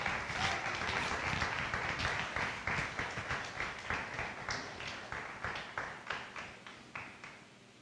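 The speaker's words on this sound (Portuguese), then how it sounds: "Você pode aplaudir a Jesus?" A church congregation applauds together, a dense wash of clapping that settles into a steady rhythmic beat and gradually fades, with no speech over it.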